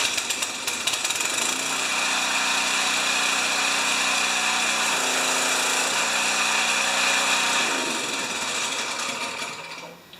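A Homelite pressure washer's small gas engine runs steadily for about ten seconds, a loud, even mechanical drone that settles into a constant pitch and then eases off at the end.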